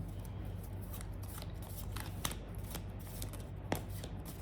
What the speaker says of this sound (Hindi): अब मैं दो कार्ड्स और निकालूंगी।